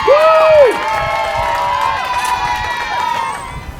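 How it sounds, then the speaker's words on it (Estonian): A crowd claps and cheers at a sports club's annual best-athletes awards ceremony, with a loud voice at the start and applause continuing under a sustained mix of voices. "Aplaus!"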